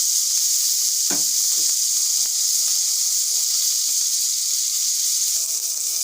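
Meat goes into hot fat in a pot, giving a broad, steady sizzling hiss throughout, with a few soft clinks and knocks of a utensil beneath it.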